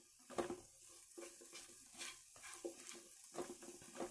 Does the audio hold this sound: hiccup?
no